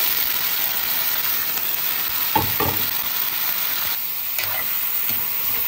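Meat and onions sizzling steadily in a hot pan as they are stirred, with a continuous loud frying hiss and occasional scraping clinks of the utensil against the pan, no voices.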